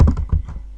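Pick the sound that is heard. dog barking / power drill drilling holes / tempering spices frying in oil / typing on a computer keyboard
typing on a computer keyboard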